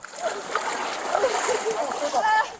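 Floodwater splashes and sloshes steadily during historic flooding in Moab, a continuous watery rush with a person speaking over it.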